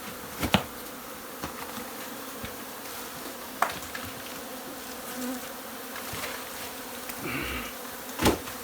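Bees buzz in a dense, steady drone around a beehive, close and continuous, with scattered sharp knocks and taps breaking through.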